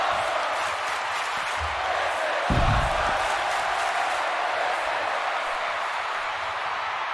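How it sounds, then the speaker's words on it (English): Wrestling crowd at a live indie event roars in a steady, distant wash of cheering and chanting, with a brief thump of ring impact partway through. "The crowd with "This is awesome" chant."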